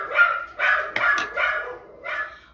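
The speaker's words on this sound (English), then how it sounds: "my dogs are the worst." Several dogs bark close by indoors in a quick run of loud, sharp barks and yips, five or so bursts with brief gaps between them.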